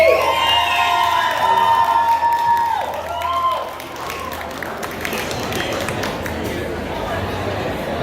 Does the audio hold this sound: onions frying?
no